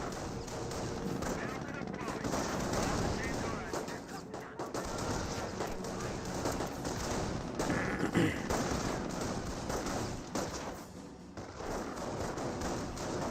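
Rifle squads exchange fire with Panzer Grenadiers in the World War II strategy game Company of Heroes: a continuous, dense clatter of rifle and machine-gun shots with thumping impacts that runs the whole time.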